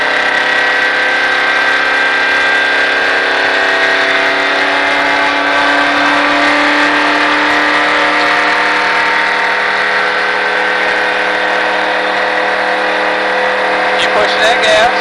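A stock car on a race track during a Richard Petty driving experience drones with a loud, sustained engine note. The note holds nearly level under the throttle for the whole stretch, and a voice is likely speaking over it.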